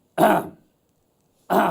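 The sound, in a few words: throat clearing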